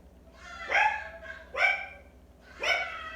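A former breeder dog barks three times, each bark sharp, high and yelping, spaced about a second apart and close to the listener, with no talking.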